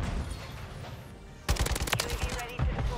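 Kastov 762 AK-47-style rifle in Modern Warfare 3 firing; after a stretch of low noisy game ambience, a sudden loud burst of rapid automatic shots breaks out and carries on in clustered, uneven volleys close by.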